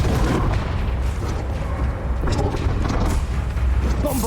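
Fire spell Confringo cast in Hogwarts Legacy, a dense rumbling blast roar filling the whole stretch with steady heavy low-end crackle and a few brighter bursts layered on top, loud and continuous, no speech.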